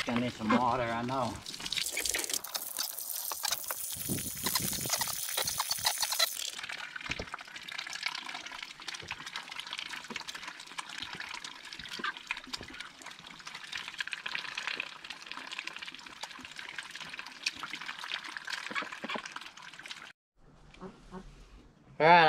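Water runs into a duck pond inside the den, a steady close splashing and trickling stream that lasts about twenty seconds, with talk heard at the start.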